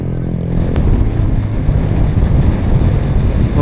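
Heavy, steady wind roars across the microphone of a motorcycle riding through a storm in Sagada, with a low engine rumble underneath and no voices.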